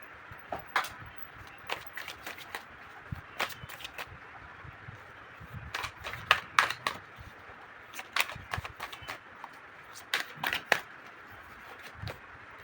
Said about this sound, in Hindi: चलिए शुरू करते हैं कार्ड्स शफल करके।